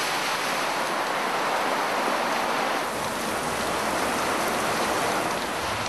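Heavy tropical rain pours on an island in Mozambique, making a dense, steady hiss that stays loud and close throughout, with no voices.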